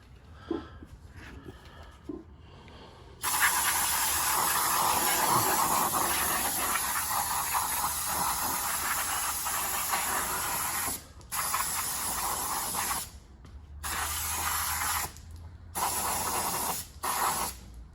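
An aerosol can sprays beneath a 1968 Mercury Cougar during an undercarriage inspection: a long, loud, steady hiss lasting several seconds, then shorter bursts separated by brief pauses, with faint handling sounds before.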